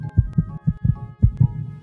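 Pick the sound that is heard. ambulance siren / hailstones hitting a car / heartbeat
heartbeat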